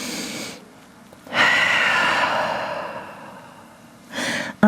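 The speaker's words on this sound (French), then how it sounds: "Grande respiration en chien tête en bas." A yoga practitioner in downward dog takes a deep breath, with a long audible inhale and exhale and a second breath starting near the end, close and alone.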